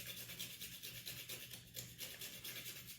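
Nutmeg is rubbed against a small box grater in quick, even rasping strokes, quiet and close, with a steady back-and-forth rhythm.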